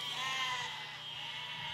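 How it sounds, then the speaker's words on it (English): Sheep in the building game Besiege, a single short bleat, faint and close, with no talk. "That spinning box that's just gonna kill a bunch of sheep."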